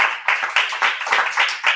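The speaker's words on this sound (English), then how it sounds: "So give yourselves a round of applause because we're here," Audience clapping at the opening of the 2021 Rotary District 7360 Conference. Close, moderately loud claps come in uneven bursts about every third of a second, like a smallish crowd, with no talk.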